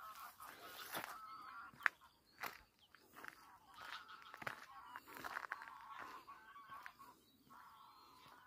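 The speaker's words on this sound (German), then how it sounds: "Alles Gänse." A large flock of geese calling across a harvested grain field, continuous overlapping honks at a moderate distance, fairly faint, with light rustling nearby.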